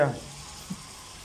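Tilapia fish from Turkey frying in a pan, a steady, soft sizzle and crackle of hot oil after a short louder opening burst.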